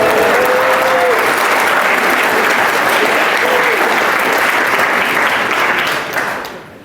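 A conference audience at the TUC Young Workers Conference breaks into loud, sustained applause that holds steady for several seconds before tapering off at the end, with a few faint voices mixed in.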